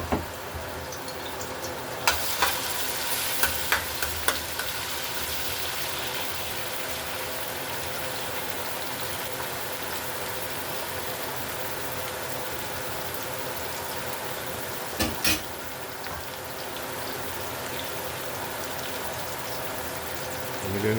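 Seasoned spinach rice fries in a pot Trinidad style, giving a steady close sizzle and crackle with a few scraping clinks of stirring near the start and again midway.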